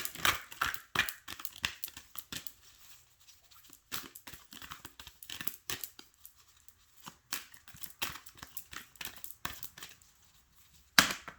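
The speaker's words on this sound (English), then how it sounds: "Give it a nice shuffle." Quick papery bursts and crisp flutters of an oracle deck being shuffled, repeated in short runs with brief pauses, close and fairly quiet.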